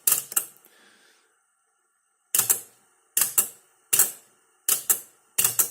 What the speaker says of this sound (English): There we go, it shifts the head around.